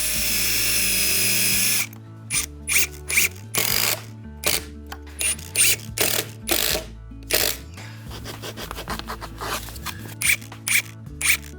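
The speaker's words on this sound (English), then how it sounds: "They're simply rabbeted and I screw them straight down over the flooring." A power drill drives screws through rabbeted baseboards down over new flooring, heard as a run of short, sharp close bursts in an irregular rhythm over a steady background music bed.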